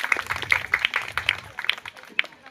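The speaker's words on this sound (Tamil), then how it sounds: "அவருக்கும் ஒரு பெரிய கைத்தட்டல் கொடுத்துடலாம்." An outdoor crowd at a village temple Pongal festival claps for a performer, scattered hand claps in an uneven burst that thins out toward the end, fairly close.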